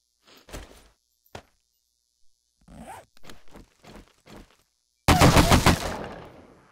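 In the survival game Starvation, a gun fires in a loud, dense burst near the end, after a few scattered clicks and knocks.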